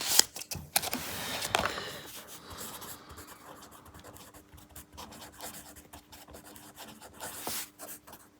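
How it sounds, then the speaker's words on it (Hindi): A pen scratches and rubs across a notebook page close by, with a few louder strokes and page handling at the start and end and steady soft writing between. "मैं नेक्स्ट पेज पे लिख लेता हूँ।"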